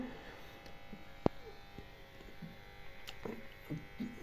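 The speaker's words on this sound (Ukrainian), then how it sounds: "той безперебійник досить голосно гудить, але працює" A GEAR GU 1200MLCD uninterruptible power supply hums loudly, a steady electrical buzz that runs unbroken through the whole stretch, with one sharp click early on and faint background noises.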